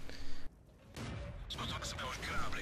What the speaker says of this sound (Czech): vidíte, střílí mu do takového kousíčku armoru